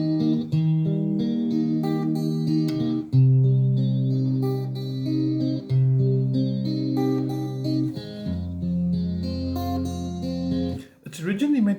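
An electric guitar with effects plays a slow ballad, sustained chords and melody ringing in phrases that shift every few seconds, heard on its own.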